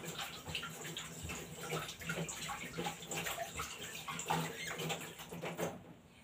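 Carrot and cucumber juice drains steadily in a continuous watery trickle and patter, close and fairly even throughout, stopping abruptly at the very end with no talking.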